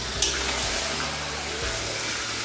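Spice-marinated chicken fries in a kadai with a continuous bright sizzle and a brief sharp spatter near the start, steady and close with no talking.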